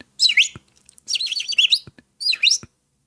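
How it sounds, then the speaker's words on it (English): Pet birds chirp indoors in three quick bursts of bright, high tweeting separated by short silences, fairly close and with no talking over them. "Used to always hear birds in the background."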